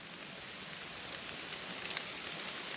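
Steady rain falling on a solo wild camp with a zippered hammock in the UK, a constant close hiss of drops with no voices.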